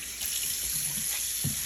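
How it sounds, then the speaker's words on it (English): Tap water runs steadily into a bathroom sink during a rinse, a continuous close hiss and splash with small gurgles, no voices. "And you give it a really good rinse."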